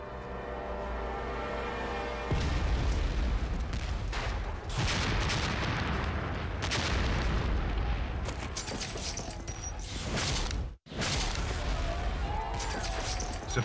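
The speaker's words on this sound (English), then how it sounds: "New York is under fire." Artillery bombardment of New York in September 1776, heavy booms and rolling cannon fire forming a dense, continuous roar that fills the scene, with a brief sudden drop near the end before the barrage resumes.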